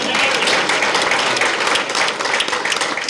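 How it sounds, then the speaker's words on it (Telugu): An audience applauds at a public gathering, loud and dense clapping from many hands that continues steadily close by for a few seconds. "కొట్టాలి చప్పట్లు"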